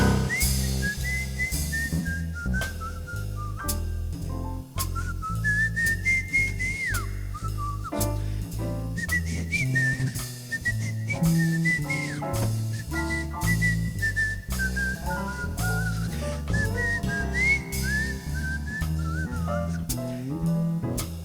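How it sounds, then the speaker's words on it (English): Someone whistles a bright, wandering melody of "On the Sunny Side of the Street" over steady backing music, the whistle clear and prominent throughout. "Let me whistle a little bit."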